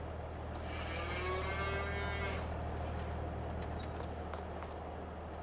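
A single long cow moo from cattle in the video game Farming Simulator 22, clear and fairly close, rising then fading over about two seconds over a steady low hum, with no talking.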